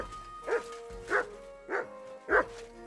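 Mutt, a dog in the video game Kingdom Come: Deliverance II, lets out four evenly spaced woofs, each short and moderately close, with quiet pauses between them.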